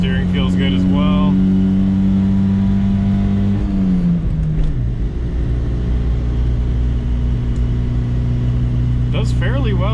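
A car engine holds a steady drone, then its pitch drops as it shifts and settles into a lower hum while climbing steep Seattle hills, loud and close from inside the cabin, with a voice talking over it.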